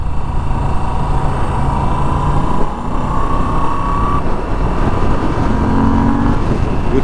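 A steady Moto Guzzi V7 Stone motorcycle exhaust rumbles throughout at close range, a low continuous drone with slight shifts in pitch, and no one talks.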